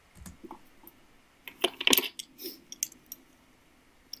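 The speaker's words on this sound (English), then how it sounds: "the loud noises of her clanking her pins down" Metal enamel pins clanking down onto a desk close to a microphone, several sharp metallic clicks and clatters bunched together, loudest in the middle, with small taps before and after.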